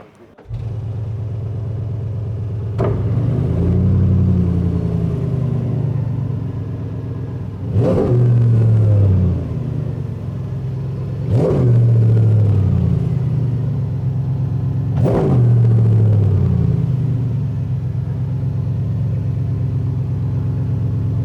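Bugatti Tourbillon V16 engine starts with a sharp burst, then settles into a steady deep idle broken by four loud, rising revs spaced a few seconds apart, each dropping back to idle, close and alone without talk.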